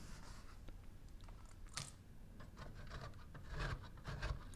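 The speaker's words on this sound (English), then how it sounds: "So we're going to grate all these 3 cheeses together." Sharp provolone, hard salty romano and fresh mozzarella are grated together by hand for an eggplant pizza, giving quiet, irregular raspy scraping strokes close up with no talking.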